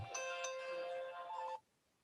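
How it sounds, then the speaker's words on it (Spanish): A phone's ringtone plays as a sustained electronic melody with a few bright pulses, fairly close and alone, then cuts off abruptly into near silence. "ahora me suena el teléfono"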